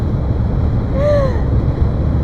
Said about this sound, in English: Today it's so windy